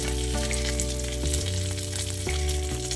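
Asafoetida and mustard seeds hit hot oil for sambar dal, giving a close, steady, continuous sizzle with a faint undertone of hum.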